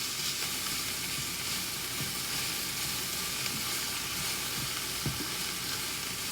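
Lobster lo mein vegetables sizzle and fry in a pot, a steady bright hiss with a few soft stirring knocks and no talking.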